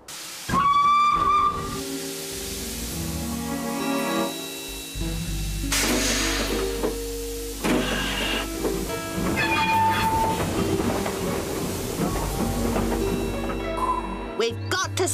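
In a Postman Pat cartoon, a steam train whistle shrieks, followed by rumbling, clanking rail noise and hissing steam as a train rolls past amid music and voices.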